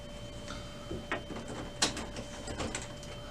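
The plastic top of an Epson WorkForce Pro WF-4734 printer is lowered shut, making a few light knocks and a firmer click, close by and with no talking, over a steady hum.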